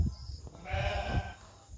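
One penned sheep on a small rural farm at nightfall gives a single drawn-out bleat, close and fairly loud, with quiet surroundings and no talk.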